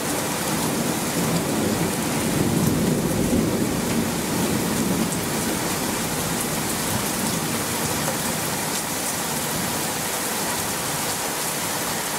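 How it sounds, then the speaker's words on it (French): Rumble of a light thunder clap rolling under heavy June storm rain, swelling briefly early on then fading back into the steady, dense hiss of falling drops. "Petit coup de tonnerre."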